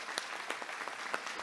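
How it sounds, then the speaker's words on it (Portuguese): Audience at a lecture applauding a former president, a soft spread of clapping with a few louder bursts, held at a moderate level throughout. "pedir uma salva de palmas"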